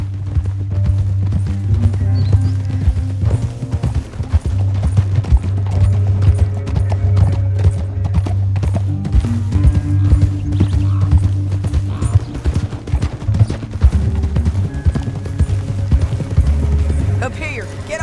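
Horses clip-clopping and galloping in the Red Dead Redemption 2 video game, a steady dense hoof rhythm under a loud continuous low rumble of game score and effects, with occasional whinnies and speech-like voices mixed in.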